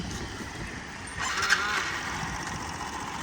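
A 2017 Honda Super Cub 49cc fuel-injected scooter engine catches on its electric starter partway through and then settles into a steady, quiet idle, heard faintly from a short distance.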